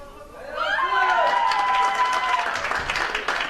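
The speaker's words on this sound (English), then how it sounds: "Well, you can hear cheering from the Turkish court." Turkish supporters cheer and clap at a men's -49 kg powerlifting event at the 2015 IPC European Open Championships in Eger. A whistle and shouts rise into a sustained roar of applause, and a commentator speaks under it.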